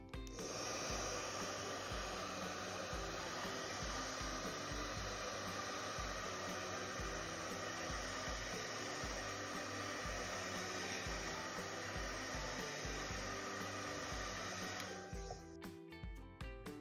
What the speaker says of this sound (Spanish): Con el secador de pelo le daremos calor al tape antiguo y será mucho más fácil desprenderlo de la tabla.